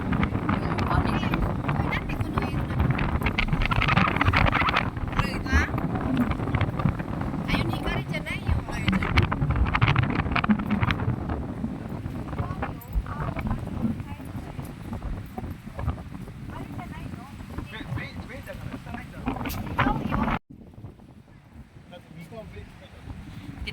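Wind buffets the microphone at a rocky seashore in Japan, a loud continuous rumble that eases off near the end, with someone talking over it.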